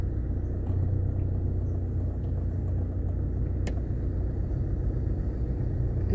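A car driving slowly into the tiger enclosure at Woburn Safari Park, a steady low engine rumble and road noise heard from inside the vehicle, continuous and fairly loud with no talking.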